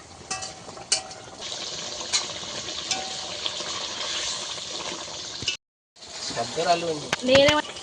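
Fish stirred into bubbling curry gravy in a pan, a steady wet simmering hiss with light scraping stirs, a brief gap, then a voice speaking over the cooking.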